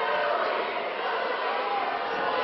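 Wrestling crowd at a 2006 Powerhouse Wrestling Mayhem in May show, a steady dense roar of many voices chanting "Smooth" for GQ Smooth, sustained and fairly distant with no break.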